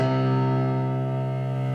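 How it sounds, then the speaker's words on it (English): A single low D struck in octaves on a piano rings out and slowly decays, one sustained tone close by with no other sound, part of the Shin Godzilla theme. "you're just going to hit the lower octave Ds"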